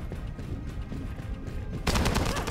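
Gunfire in the sci-fi shooter The First Descendant, with a low rumble of game action giving way to a sudden loud burst of rapid shots in the last second, no talk.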